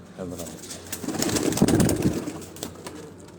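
Pigeons cooing on a rooftop, a steady cluster of low, throaty rolling coos from several birds close by, with faint wing flutters and a voice talking.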